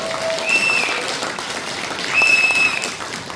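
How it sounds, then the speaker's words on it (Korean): An audience applauds at a political party rally lecture in a hall, with steady dense clapping that holds throughout and swells slightly toward the end. "자, 그럼 다시 한번 큰 박수 부탁드리겠습니다."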